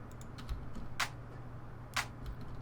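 First layer of a tech house clap sample snaps twice, roughly a second apart, each crisp hit standing out over a quiet, low, ticking backing groove.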